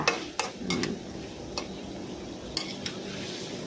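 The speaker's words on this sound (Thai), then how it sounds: "ทำการผัดเลยค่ะ" Cucumber and egg stir-fried together in a pan make a low, quiet sizzle, with intermittent clicks and scrapes of a spatula against the pan.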